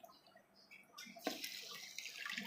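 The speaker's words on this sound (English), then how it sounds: "So I'll add my water to it to dissolve." Water poured from a tap into a container to dissolve dishwashing liquid ingredients, quiet splashing that starts faintly and swells into a steady rushing pour after about a second.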